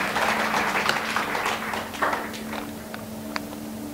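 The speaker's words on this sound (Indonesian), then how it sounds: "Berikan tepuk tangan dulu untuk Tuhan." Church congregation clapping together at a Bible study service, a brief, moderately loud patter of many hands that fades away over a few seconds, with a steady hum beneath.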